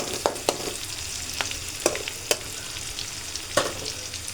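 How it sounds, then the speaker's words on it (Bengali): Chopped onion frying in oil with turmeric, chili powder and coriander powder, a steady close sizzle broken by several sharp scrapes and taps of the spoon as it is stirred. "আমি এগুলো একটু ভেজে নিচ্ছি"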